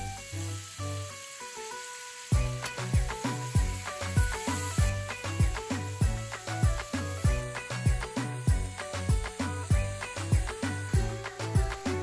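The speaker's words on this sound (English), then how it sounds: "Mix your spices and let them continue to sizzle on medium heat." Spices sizzling in hot oil on medium heat for an orange and lemon pickle, a steady frying hiss with rhythmic stirring scrapes that grow louder partway through.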